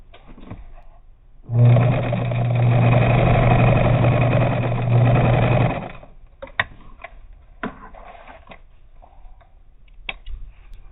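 A Bernina 830 sewing machine runs a continuous buzzing stitch for about four seconds while sewing a ditty bag, then stops, followed by a few sharp clicks and handling sounds.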